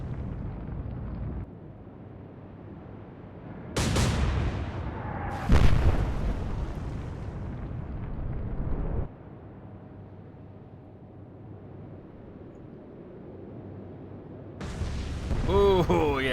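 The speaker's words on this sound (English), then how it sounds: "that torpedo hit the cruiser" In the naval game Atlantic Fleet, a torpedo strikes a cruiser at sea and sets off two heavy, booming explosions that roll out into a long rumble, followed later by another burst, with someone narrating throughout.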